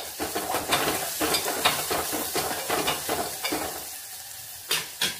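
Sliced onions sizzle in hot oil while a spoon stirs and scrapes the pan in steady, repeated strokes, close up, then the stirring pauses and a couple of final scrapes follow.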